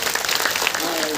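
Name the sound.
audience applause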